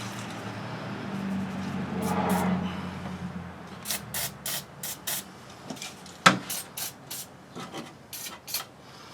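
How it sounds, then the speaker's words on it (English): Penetrating lubricant is sprayed onto the fuel injectors of a 2009 Buick Lacrosse engine in a series of short, sharp hissing bursts, close to the microphone, with some rubbing and handling noise between them. "Sometimes I find on these injectors you're better off just to spray them down a little"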